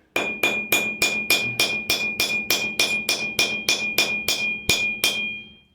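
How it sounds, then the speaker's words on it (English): A hammer's flat face peens a rivet joining leather to metal in about fourteen sharp, ringing blows at a steady, even rhythm, close up, with no talking. "flatten it out with the flat face of the hammer"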